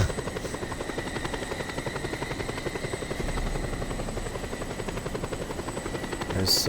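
A helicopter in a video game, its rotor thumping in a fast, steady chop with a constant high whine above it, loud and close throughout and without talk.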